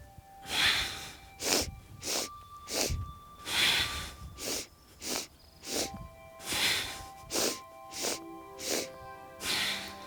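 A yoga practitioner breathes in and out through the nose in a steady, unhurried rhythm, about a dozen close, airy inhales and exhales with soft snorting hiss, alternating evenly and heard alone over faint background tones.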